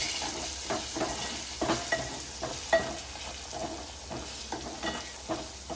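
Kashmiri red chili powder and salt being stirred into a hot, sizzling pan for an eel fish curry, with steady frying hiss and repeated close scraping strokes of a spoon, no voices.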